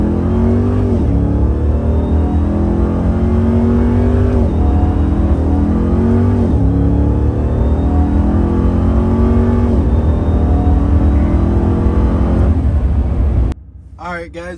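A Ram TRX pickup truck revs hard through a second gear pull near 4,000 RPM, engine roaring loud and steady with repeated rising sweeps before cutting off abruptly near the end.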